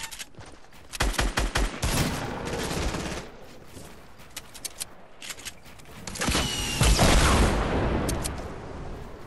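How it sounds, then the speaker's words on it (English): Gunfire in Fortnite, loud bursts of rapid shots in clusters separated by quieter gaps, with a heavier volley late on. "Why is everybody shooting at me?"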